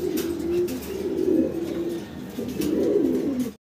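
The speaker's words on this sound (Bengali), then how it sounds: "স্ক্রিনে দর্শক আরো এক জোড়া জার্মান বিউটি হোম আমরা দেখতেছি, বিশাল বড় বিগ সাইজের ভিতরে" German Beauty Homer pigeons coo nearby in two drawn-out, throaty bouts separated by a short pause, with no other sounds around them.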